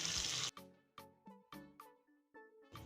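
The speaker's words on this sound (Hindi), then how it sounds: "अब इसमें 1 कप बॉईल किया हुआ पानी डाल देंगे।" Boiled water is poured into a pan of potato and pea curry in a home kitchen: a brief rushing splash, then a series of soft bubbling, plopping liquid sounds at a steady pace, close and fairly quiet.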